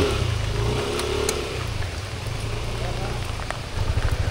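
Steady rain pours down during a ride home along an alternative village route in the Kepuh area, a dense, constant hiss over a low engine rumble that swells near the end.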